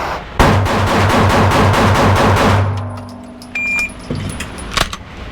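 A rapid string of about ten gunshots fires in quick succession during a timed shooting drill, loud sharp reports close by, followed by quieter clinks and rattles.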